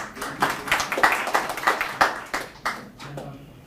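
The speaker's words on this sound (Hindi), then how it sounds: "आप सबकी भरपूर तालियों में आज़म मलिक साहब" Audience clapping at a book launch ceremony for Fakhar-e-Pakistan, a run of distinct handclaps from a modest crowd, close and fairly loud, thinning toward the end.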